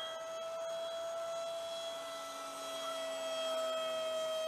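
A Dynam ME 262 RC model jet flies overhead, its ducted fans giving a continuous high-pitched whine with steady tonal overtones, fairly faint and distant and gently shifting in pitch.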